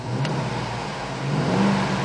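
A 6.2-liter V8 engine in a 2008 Cadillac Escalade revs steadily with a deep, low rumble that swells slightly toward the end, heard up close with no talking.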